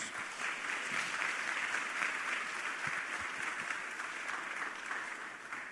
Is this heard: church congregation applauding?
yes